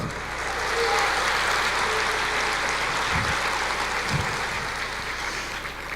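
Congregation at a church service applauding, a steady broad wash of clapping that carries through the whole stretch, with a couple of low thumps partway through.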